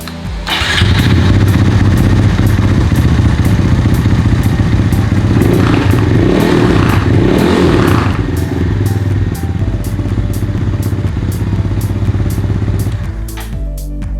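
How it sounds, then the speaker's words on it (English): A 2019 Honda Monkey motorcycle engine cranks on a lightweight lithium battery and catches, then idles steadily and loudly up close before cutting off near the end. "let's make sure it's able to turn over the engine"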